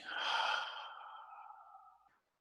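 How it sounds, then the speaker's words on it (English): A single slow, deep breath out during a breathing meditation, close and soft, tapering off gradually over about two seconds before silence. "Breathing in deeply through the nose and breathing out slowly."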